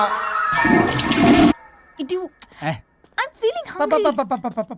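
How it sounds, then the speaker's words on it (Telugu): A toilet flushes loudly and close by for about a second and a half, a rushing burst of water that cuts off abruptly, followed by voices talking. "ఫ్లష్ కొట్టడం మర్చిపోయావు"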